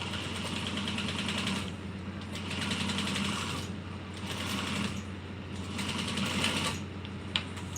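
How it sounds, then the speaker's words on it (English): Sewing machine top stitching a bowler bag, running in steady whirring, rapid stitching bursts of one to two seconds with short pauses between, close and continuous with no speech. "Changing my stitch length back to my top stitch length, and then I'm going to top stitch across here"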